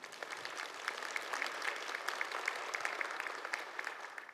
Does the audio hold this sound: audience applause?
yes